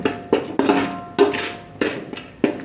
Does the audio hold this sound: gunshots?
no